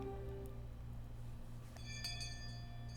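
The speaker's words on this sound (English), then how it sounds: "Just then we heard a bell far away marking the end of our lunch break." A distant school bell from the Higurashi visual novel game rings from about two seconds in, its faint metallic tones sitting over a steady low hum with no talking.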